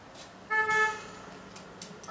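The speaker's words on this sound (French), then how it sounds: "Ah, ça klaxonne." In Need for Speed on PS1, a car horn sounds once, a brief, moderately loud honk with a short tail, then quiet engine ambience.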